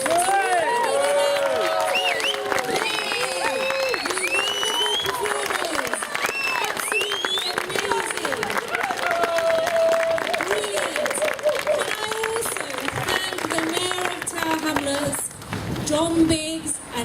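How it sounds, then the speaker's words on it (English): A large audience gives sustained applause and cheering for stage performers at a commemorative event, dense clapping and crowd noise filling the room steadily from start to finish. "give the biggest and loudest of applause to these wonderful, wonderful performers"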